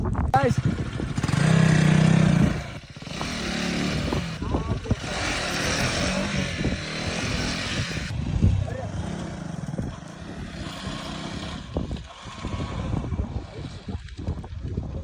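Motorcycle ridden offroad down a hill toward Madenur dam, its engine rumbling and surging close by amid wind buffeting the microphone, while a rider talks over it.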